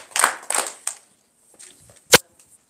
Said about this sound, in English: let's give Mr. Omar a clap